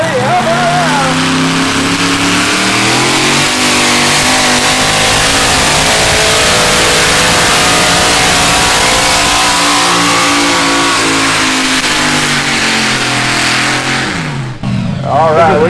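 A truck-pull engine roars and revs loud and close at the St. Charles County Fair, holding a sustained, rising drone with pitch sweeps before easing off near the end.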